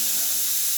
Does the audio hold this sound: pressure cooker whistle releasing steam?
yes